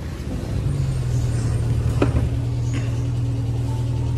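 A jungle safari vehicle rolls along with a steady, loud low engine drone, a sharp knock or jolt partway through, and rattling from the shaking body.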